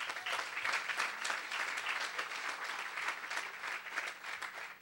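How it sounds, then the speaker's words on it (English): Outdoor crowd at a city transit center groundbreaking applauds, a dense, continuous wash of many hands clapping at moderate distance, steady throughout without speech. "Give them a round of applause."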